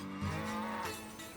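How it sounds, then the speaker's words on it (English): A cow on a small-town farm lets out a single drawn-out moo, close and fairly loud, with no talking. "Past 3 years, I started getting cows."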